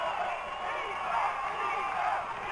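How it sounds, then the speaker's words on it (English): A crowd at a 2002 Gloucester versus Swampscott high school football game chants steadily in the distance, a dense continuous roar of voices with no clear breaks. "The crowd is chanting defense in case you can't hear it"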